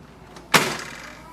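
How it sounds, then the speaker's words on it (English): A plastic access door on a Canon Pixma TR8622e inkjet printer is pressed shut after an ink cartridge swap, giving one sharp close-range clack that decays quickly into a quiet room. "Press the door down."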